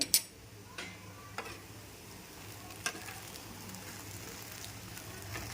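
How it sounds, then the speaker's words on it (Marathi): Cooked sabudana khichdi with potato is stirred in a pan, with a few soft scraping knocks over a faint steady sizzle, quiet and close with no talking. "चला तर आता पुन्हा एकदा मिक्स करून घेऊयात"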